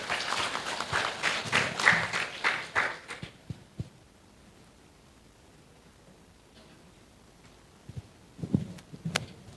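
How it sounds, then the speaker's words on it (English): A technology conference audience gives brief clapping that swells for about three seconds and then drops to quiet room tone, with a few scattered claps and rustles near the end. "Applause,"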